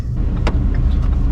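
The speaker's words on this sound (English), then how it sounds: "Oh, I got passed by the UPS truck." A UPS delivery truck passes on the road in a brief, steady whoosh of engine and tire rumble, heard from inside a nearby vehicle.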